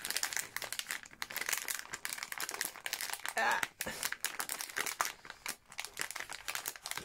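Plastic bags crinkle and rustle loudly up close while packages are unboxed, in irregular bursts of crackling with brief pauses.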